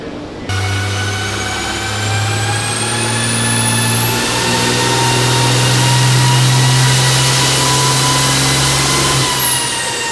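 12-valve diesel engine making a dyno pull at the Diesel Power Challenge: a loud, deep roar that climbs steadily in pitch for about nine seconds, then cuts off, with no voices.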